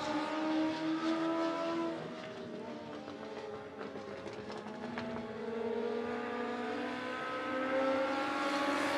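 Dirt track race cars roar through a heat race at Monett Motor Speedway, engines droning loud and continuous with rising and falling revs as the pack circles, a faint announcer voice buried beneath.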